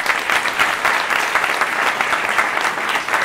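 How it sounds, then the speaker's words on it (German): Dense, steady audience applause at a chemistry science slam as a contestant is introduced, loud and continuous throughout with no gaps. "bitte Applaus für Sie"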